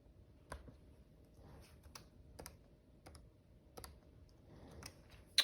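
A computer keyboard is typed on quietly, with sparse, irregular key taps spaced through a hushed room and a sharper click at the end.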